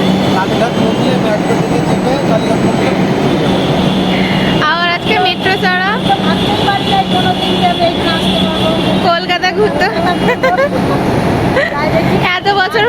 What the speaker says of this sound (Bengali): মেট্রো ঢুকছে